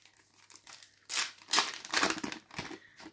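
Foil sachets of FIFA 365 2024 trading cards, Panathinaikos and PAOK packs, are ripped open with crinkly tearing bursts, loudest in the middle, heard close up with no talking.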